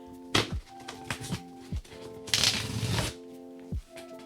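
Cardboard packaging of a lightsaber box is torn and ripped open, with sharp tearing bursts, rustling and a few thumps in irregular bursts, close by.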